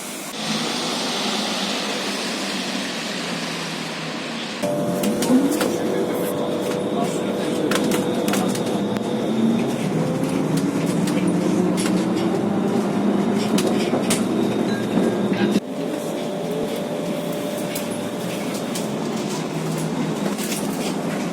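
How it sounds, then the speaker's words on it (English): Interior of a double articulated trolley bus in Switzerland under way, a steady electric motor whine and rolling rumble with rising and falling tones, rattles and abrupt shifts in the background, with talk over it at times. "And now go along to a double bendy trolley bus,"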